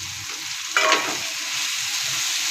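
Okra hitting a hot pan with salted, softening tomato gives a short burst of sizzle. A steady, fairly loud frying hiss carries on alone afterward.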